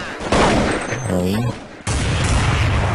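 Gunfire in Counter-Strike 1.6, loud close bursts of shots that fill the clip, with a brief voiced sound cutting across the middle before the firing resumes.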